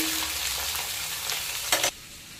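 Vegetables frying in a pan for a hilsa fish curry with vegetables, a steady close sizzle with a brief louder burst of hissing near the end, no talking.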